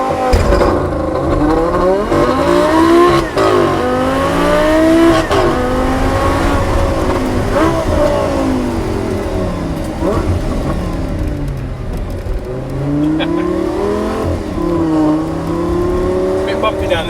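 An 800 bhp supercharged Audi R8 GT V10 launches hard, its engine roaring loud and close through rising and falling rev sweeps with gear changes, under steady in-car noise with people talking over it.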